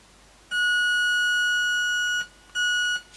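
Buzzy, harmonic-rich tone from a simple one-transistor electronic organ, held steady for nearly two seconds, cut off, then sounded again for a shorter burst, loud and close with nothing else audible.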